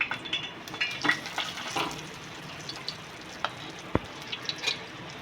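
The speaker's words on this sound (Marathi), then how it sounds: "एक साईड पापलेट फ्राय झालेलं आहे आता दुसरी बाजू पण फ्राय करून घ्यायची आहे" Pomfret coated in semolina shallow-frying in a pan over a low flame gives a quiet, steady sizzle with scattered sharp pops and crackles.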